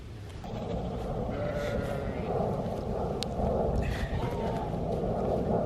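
Young lambs bleat repeatedly in a farm paddock, loud and close, with several overlapping calls over a steady low background rumble; a person speaks briefly nearby.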